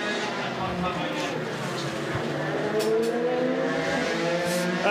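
A fast closed-cockpit race car engine drones on track with rising harmonic pitch, loud and continuous for several seconds, with a commentator talking over it.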